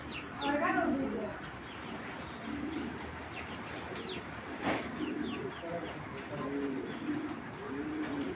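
Black checker racing pigeons cooing close by, repeated throaty rolling coos rising and falling over several seconds, with a few higher chirps in the background.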